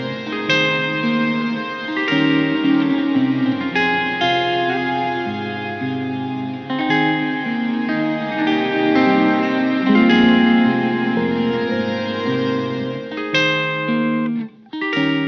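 A looping electric guitar phrase through a Strymon Cloudburst reverb pedal, its ensemble setting on medium, lush with reverb and a shimmering chorus-like effect, playing steadily and fairly loud with no talking.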